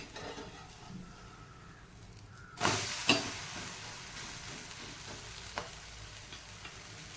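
A besan dhirde, a gram flour pancake, fries on a hot pan with a steady close sizzle, broken by two sharp louder bursts near the middle as it is handled, then settling back to an even frying hiss.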